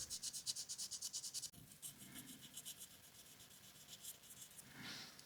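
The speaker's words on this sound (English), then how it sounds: "I sand the copper contact plate with 1500 grit wet sandpaper" Copper contact plate of a Lenovo Y520 laptop heat sink being sanded with 1500 grit wet sandpaper, a quiet rhythmic back-and-forth rasping in quick strokes that pauses briefly, then continues more softly.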